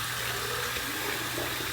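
Hot water pours steadily into a bathroom sink or container during a head shave with a Gillette Mach 3 razor, a continuous close splashing rush with no talk.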